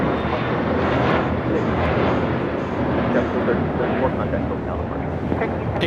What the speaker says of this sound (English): Taking off to Newark. This is an A321 JetBlue Airways Flight 1374.